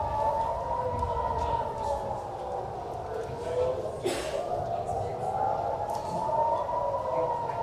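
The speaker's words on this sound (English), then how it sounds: "you hear the sirens there telling people to go in shelter, telling people to go to their bunkers." Air raid sirens in Israel warn of an Iranian missile attack, a wailing tone that slowly rises and falls and sounds distant, heard under a voice talking over it.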